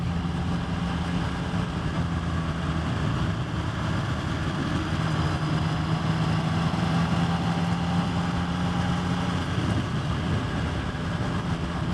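A 2023 Yamaha XSR 900 motorcycle engine drones steadily while riding through corners, a continuous close hum mixed with wind rush and no break in level.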